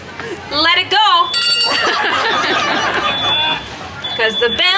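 A hand bell rung loudly and continuously at an EPCOT holiday festival, its bright ringing mixed with excited crowd chatter, laughter and a nearby voice.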